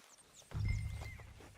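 Horse hooves clopping in Red Dead Redemption 2, a steady walking beat that starts abruptly and continues close and moderately loud, with no talk over it.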